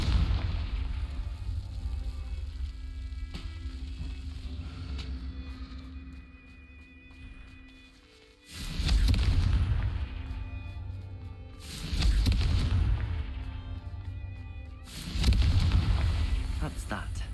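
Confringo fire spell explosions in the video game Hogwarts Legacy, three loud booming blasts spaced a few seconds apart after a stretch of game ambience, with a voice talking at times.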